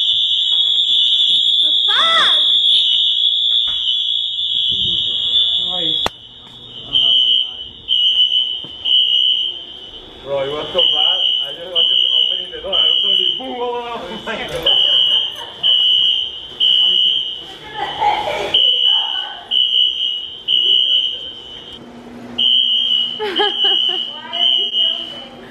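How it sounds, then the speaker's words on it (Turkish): A building fire alarm sounds a loud, continuous high-pitched tone that keeps going throughout, while several people talk over it. "Yangın alarmı çaldığı anda herkesin dışarı çıkması gerekiyor, boşaltması gerekiyor."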